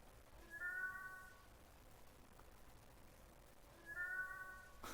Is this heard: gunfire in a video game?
no